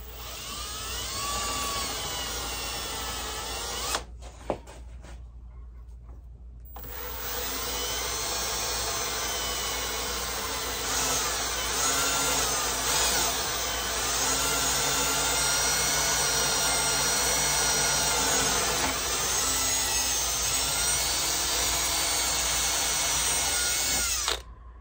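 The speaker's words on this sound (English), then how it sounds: "Make sure I have plenty room to drill this pin." A power drill whines steadily and loudly up close, drilling a pin hole in a carbon steel knife blade, pausing briefly near the start before running continuously again for a long stretch.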